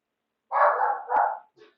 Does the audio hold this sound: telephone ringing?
no